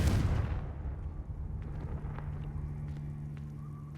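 A fiery Confringo spell blast in a Hogwarts video game, opening with a loud burst that trails off into a rumbling decay with faint crackles and small debris sounds afterward.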